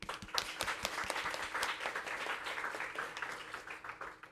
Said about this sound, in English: let's give one final round of applause to congratulate our master's graduates of Tunghai